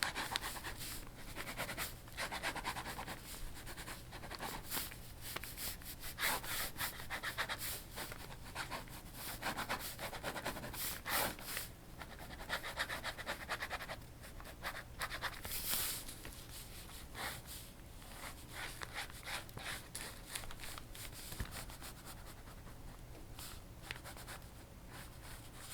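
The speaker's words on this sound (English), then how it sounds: "I scribble on a page and I can't really erase it." A pen scribbles across a page in close, steady scratching strokes that run without pause, with no talking over them.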